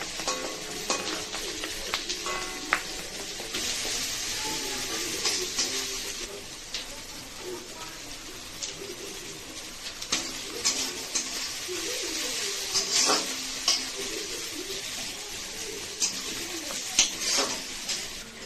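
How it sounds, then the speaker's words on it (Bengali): Onions frying in a small amount of oil in a pan for a Bengali chicken curry, a steady close sizzle with occasional stirring clinks of utensil against pan, continuous throughout with no talk. "পেঁয়াজটা ভাজা হচ্ছে, তেলটা অল্পই দিয়েছি"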